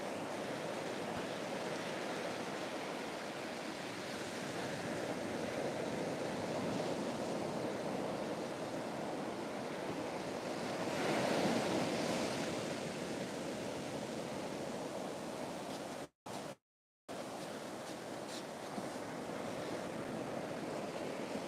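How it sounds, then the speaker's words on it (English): Ocean waves wash steadily onto the beach at Rabbit Island, New Zealand, a continuous close surf roar that swells briefly midway, with two abrupt dropouts near the end. "just the sound of the waves is so calming"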